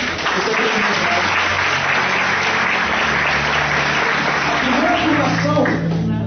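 A church congregation claps steadily and loudly through a sermon service, with scattered voices and shouts under the applause.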